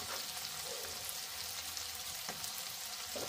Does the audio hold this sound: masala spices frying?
yes